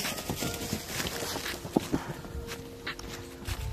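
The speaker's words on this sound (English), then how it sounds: "My horse." Video game horse hooves clop along at a walking pace, fairly faint, with a low hum behind them and a couple of brief tonal blips.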